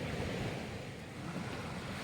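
Sea waves rolling in beside a beach resort, a steady low wash of surf mixed with wind buffeting the microphone, soft and continuous.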